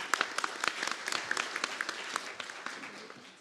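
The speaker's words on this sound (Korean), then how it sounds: "큰 박수로 환영해 주시면 고맙겠습니다." An audience at an academic tourism conference in Korea welcomes a professor with applause, a dense crowd of close claps that holds steady, then gradually thins and fades toward the end, with no one speaking.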